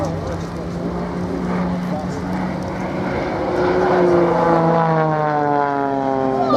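An Extra 300 aerobatic propeller plane flies a display, its loud engine drone rising and shifting in pitch as it dives to build speed, heard from the ground with the buzz swelling toward the end.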